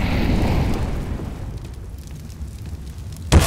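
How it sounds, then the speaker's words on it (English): Grenade blast in CS:GO on a wingman map, a loud rumbling burst that fades into a decaying roar, followed by a sharp click at the end. "Grenade out."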